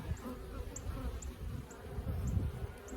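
Honeybees buzz steadily around a Langstroth hive outdoors, a dense continuous drone close by with no pauses and no talk.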